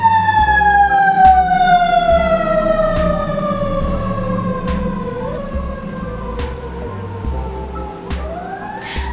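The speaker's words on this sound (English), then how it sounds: "Sorry about the siren" A city emergency-vehicle siren in Philadelphia wails loudly and steadily throughout, its pitch slowly falling as it passes close by, with low traffic rumble beneath.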